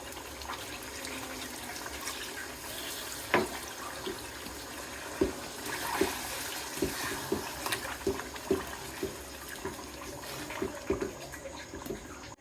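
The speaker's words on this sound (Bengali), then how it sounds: "এই তো এখন ঝোল দিয়ে দিব।" Broth poured into a pot of meat that is nearly done braising, a soft liquid pouring rush with a series of small clinks and taps against the pot, fairly quiet and with no talk.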